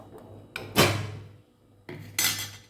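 A metal lid clanks twice onto a cooking pot of jackfruit seed and mango curry, each close, bright clatter ringing briefly before fading.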